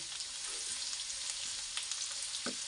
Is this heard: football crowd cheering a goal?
no